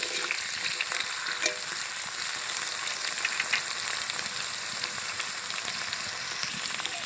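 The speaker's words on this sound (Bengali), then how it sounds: "আলুগুলো এবার আমি খুব ভালোভাবে ভেজে নেব" Potato pieces fry in a pan for vegetable chops, producing a continuous, even crackling sizzle with faint stirring scrapes, close and steady throughout with no voices.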